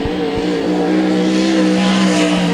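Race car engine running on track during a timed qualifying session, a loud, steady high-pitched drone with harmonic whine held close and continuous throughout, no pauses.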